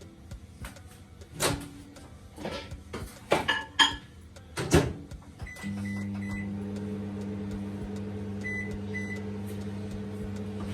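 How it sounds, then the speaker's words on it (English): Dishes clatter, then a microwave beeps a few times and starts a steady, droning hum while melting butter, with more beeps partway through. "I'm going to put the butter in the microwave for until it melts."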